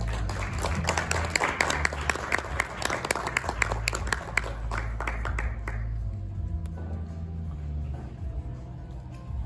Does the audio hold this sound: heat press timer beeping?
no